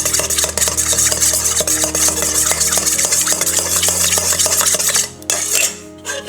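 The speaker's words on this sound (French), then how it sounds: "Et là on va rajouter de l'huile, l'équivalent de 3 cuillères à soupe. Et on va émulsionner." Oil being whisked into a vinaigrette to emulsify it, with a steady run of quick clinking and scraping strokes against the bowl that go on for about five seconds before a short lull, over faint background tones.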